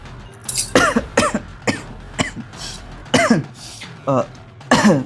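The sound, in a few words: cough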